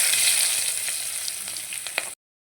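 Onions frying in oil, a dense continuous hiss of sizzling with a few faint pops and stirring taps, close and steady before cutting off abruptly; nobody talks.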